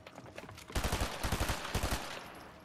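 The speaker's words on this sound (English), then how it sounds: "I tried shooting out his ramp." Fortnite gunfire in a duo builds match: a rapid volley of shots bursts in at about 0.7 s, with loud repeated cracks in quick clusters that fade into a brief tail, no talk over them.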